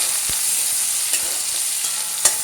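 Whole garam masala, bay leaf and onion stir-fry in hot oil with a continuous close sizzle, while a spoon scrapes and taps against the pan a few times at irregular intervals.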